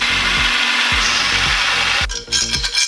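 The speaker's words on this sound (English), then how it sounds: "now I can drill it." Steady loud whirring of a drill boring holes in metal brackets, with repeated low rhythmic bumps as the bit bites, shifting to a harsher grind near the end.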